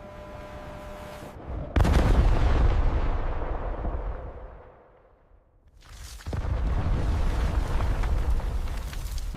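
Two heavy, loud blasts from explosives set in a precise grid to fracture gold ore at a mine, the first booming and decaying over several seconds, then a second blast with a long rumbling roar.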